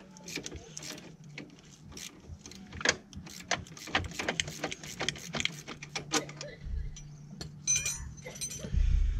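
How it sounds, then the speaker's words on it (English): Metal clinks and ratcheting clicks of 14 millimeter sockets removing ATV suspension during a wheel bearing job, close and irregular, with brief taps and a low rumble near the end. "I'm just going to remove the suspension here."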